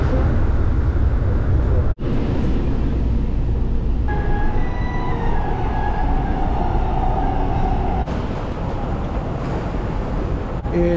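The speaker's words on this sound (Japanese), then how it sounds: "久しぶりの韓国電車やな。" Inside a Korean commuter train during the ride, a loud continuous rumble of wheels and car body, with a sharp dip and a shift in the tone partway through and a faint whine rising in the middle.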